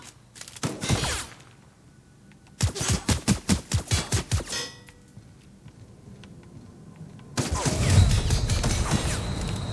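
Gunfire in The Outer Worlds, shooting on Gorgon: several loud bursts of shots, including one rapid run of evenly spaced reports, separated by quieter stretches with scattered clicks and a short muffled voice.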